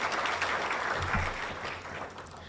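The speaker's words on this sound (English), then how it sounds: "So if we could please acknowledge all of our sponsors with a round of" Steady applause from a seated audience at a Kankakee community development and Chamber of Commerce meeting on opportunity zones, a dense, even patter of many hands that holds for the whole stretch with no talk over it.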